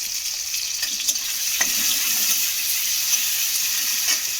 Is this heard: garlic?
yes